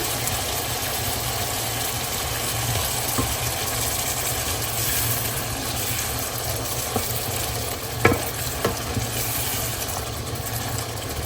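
Tomatoes fry in a spiced fish masala in a pan, giving a steady, continuous sizzle with a low background hum and a few soft clicks of stirring, with no voices.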